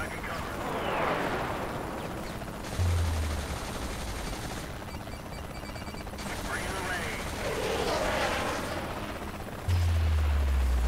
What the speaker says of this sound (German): Ein Heli und zwei Sniper drauf.